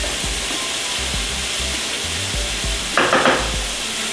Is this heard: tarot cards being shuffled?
no